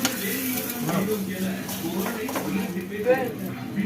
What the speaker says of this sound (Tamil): இப்போ நம்ம கிண்ட ஆரம்பிக்கலாம்.